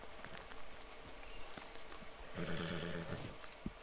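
Horse in a video game whinnying loudly over a background of hoof clip-clops and rustling, one long neigh in the second half, no talk.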